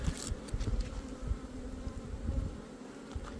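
Honeybees buzz steadily around an open beehive during an inspection, a dense, close droning hum that never breaks.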